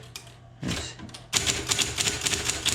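An old manual typewriter, its ribbon still holding ink, is typed on: a few sparse key strikes, then a quicker run of sharp, close mechanical clacks and thumps, with no talking.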